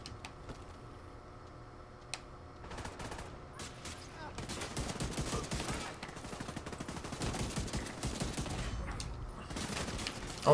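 Rapid automatic gunfire in The Division 2 rattles on in dense, sustained bursts, growing louder midway and continuing to the end. A voice speaks faintly now and then.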